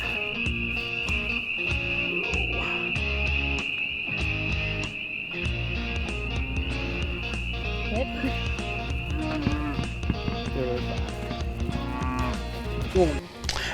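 Cattle moo repeatedly nearby during calving season, deep drawn-out calls overlapping one another, with a constant high insect chirring in the background and occasional voices.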